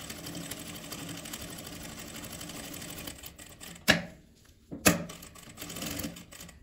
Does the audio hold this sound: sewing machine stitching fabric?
yes